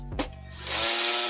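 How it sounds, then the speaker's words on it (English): A Milwaukee power drill drives screws into a Tamiya TT-02 RC car chassis, a short whir that ramps up into a sustained high whine, close and loud. "Don't worry, that's just the drill."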